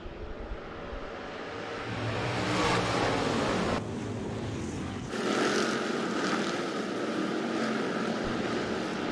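A pack of twenty hobby stock race cars roaring around Rapid Speedway, a dense, loud engine drone swelling as the field passes close, then holding a steady far-off roar with no talk.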